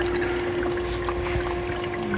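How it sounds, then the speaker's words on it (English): An Igloo countertop ice machine trickles water over its metal rods, giving a soft, continuous dribble and splash under a low steady pump hum, quiet and close. "It does it by basically dropping the water over the little rods, the metal rods"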